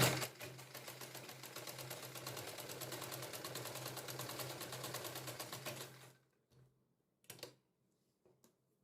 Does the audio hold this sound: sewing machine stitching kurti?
yes